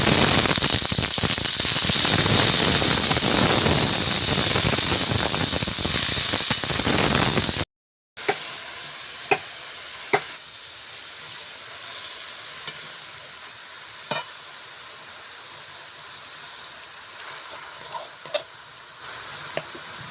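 Bathua greens (beto shak) sizzle loudly in a hot pan for several seconds, then after a brief cut the frying continues more quietly under sharp scraping stirs and occasional ticking clinks of the spatula against the pan.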